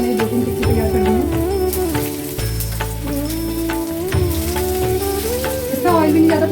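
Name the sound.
potato cutlets (tikki) frying on a griddle (tawa)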